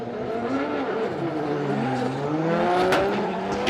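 A drift car's engine howls near the rev limiter at Formula Drift Japan at Suzuka, its pitch rising and falling as the throttle changes, with a short burst of tire noise near the end.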